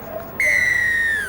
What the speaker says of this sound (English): the sound of the whistle gives a penalty against St George